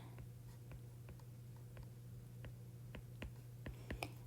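Pen or marker strokes scratching out writing during a math lesson, a steady series of short faint taps and scrapes over a constant low electrical hum, with no talking.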